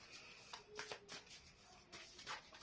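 Tarot cards being shuffled in soft, quick riffling bursts, close and fairly quiet, with brief pauses between handfuls.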